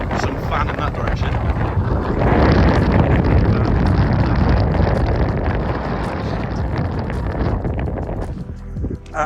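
Strong, gusting wind roars across a snowy, icy mountain summit at Pen Y Fan, buffeting the microphone in a steady broadband rush that swells mid-clip and drops briefly near the end.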